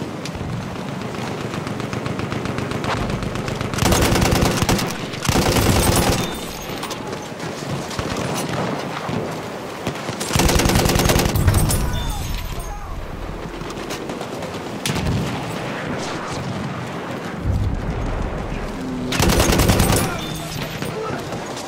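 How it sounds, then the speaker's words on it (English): Enemy machine gun fire in the Battlefield 1 video game at Cape Helles, heavy bursts of automatic gunfire recurring every few seconds over a constant loud battle din, with voices calling out during it. "Enemy machine gun!"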